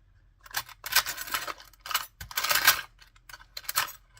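Small metal cogs and hardware for a junk journal are rummaged by hand nearby, a run of bright clinking and rattling bursts separated by brief pauses.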